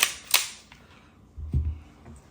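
A Watchtower Apache pistol's trigger is pulled during a weight test, giving a couple of sharp, faint mechanical clicks followed by a soft low thump, close up in a quiet room.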